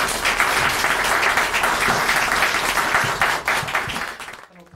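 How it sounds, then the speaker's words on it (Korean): Sustained audience applause fills a political hall as the newly appointed People Power Party emergency committee chairman steps up to the podium, steady and dense before thinning out at the end. "국민의힘 사령탑을 맡은 한동훈 비상대책위원장이 박수를 받으며 연단에 오릅니다"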